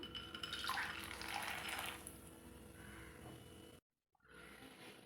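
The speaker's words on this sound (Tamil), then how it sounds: "எண்ணெய் நல்லா ஹீட் ஆன பிறகு தான்ப்பா வேர்க்கடலை போடணும். அப்போ தான் போட்டோன்னே இந்த மாதிரி நல்லா பொரியும்." Peanuts dropped into well-heated oil fry with a loud bubbling sizzle that fades somewhat, cuts out briefly, then resumes at a lower level.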